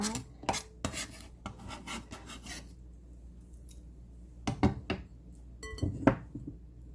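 Chopped water dropwort being tossed with seasoning by hand in a bowl: a few close rubbing, rasping scrapes early on, a quiet gap, then more brief handling bumps and scuffs, with no talking.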